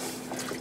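Milk is poured into a pan to make a cheesy white sauce for veggie lasagna, heard as a brief, soft, close trickle.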